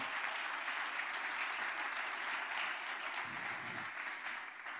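A youth gathering audience gives a warm round of applause to welcome two speakers, steady dense clapping heard from a distance at low level, fading slightly toward the end.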